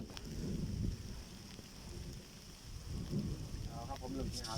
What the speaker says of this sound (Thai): อืมฝนตกครับ